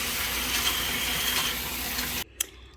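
Tap water runs steadily over thawed fish being rinsed in a sink for water fufu, a continuous broad wash that cuts off abruptly, followed by a brief knock.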